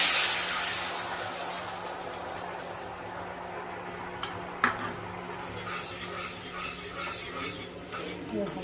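Mixed vegetables tumbled into a hot pan over chilies and black mustard seeds tempered in oil, a brief pouring rush followed by soft stirring scrapes and a low steady sizzle, close and moderate in level.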